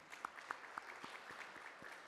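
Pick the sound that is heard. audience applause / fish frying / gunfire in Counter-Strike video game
audience applause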